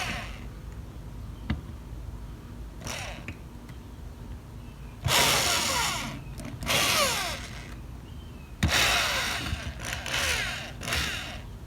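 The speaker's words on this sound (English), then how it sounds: "I'm also gonna use a drill to create a guideline instead of a nail." A power drill bores into wood in several bursts of whirring and grinding, separated by quieter pauses with low background hum.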